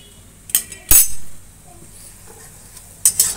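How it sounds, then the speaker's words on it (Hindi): Spices get stirred in a pan while cooking a dry cauliflower dish, with a few sharp metallic clinks and scrapes of a utensil against the pan over a quiet, low sizzle. "सभी मसाले को अच्छी तरह से मिक्स कर दिए हैं।"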